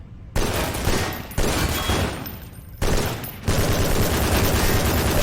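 Rapid automatic gunfire from a weapon in the Half-Life 2 beta game, loud bursts separated by brief pauses, with no talking.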